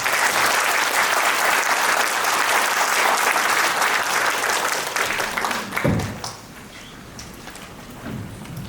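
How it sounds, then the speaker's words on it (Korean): Audience applause at a Gyeonggi provincial policy forum on long-term care workers, dense steady clapping for several seconds that thins out abruptly near the six-second mark, leaving a quiet room with faint stray sounds. "박수 부탁드립니다"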